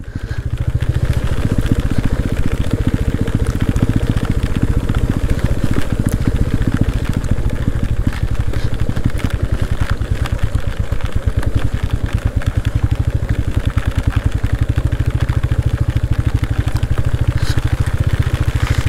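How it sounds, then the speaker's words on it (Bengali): A vehicle's engine drones steadily under engine braking as it descends a rain-soaked mountain road in North Bengal's Dooars during the monsoon, a continuous loud rumble with faint clatter throughout. "গাড়ি আমাকে নিজে নিজেই কিন্তু ইঞ্জিন ব্রেকিং সিস্টেম ব্যবহার করে নামিয়ে দিচ্ছে নিচে।"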